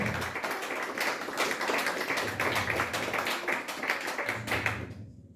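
A church congregation claps during a sermon, a steady wash of many hands applauding for several seconds before stopping abruptly.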